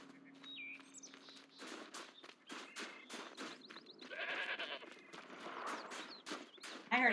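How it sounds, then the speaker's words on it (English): A goat bleats a few times in the open-world game Horizon Zero Dawn: The Frozen Wilds, with footsteps, birdlike calls and game effects around it at moderate volume. "I heard a goat."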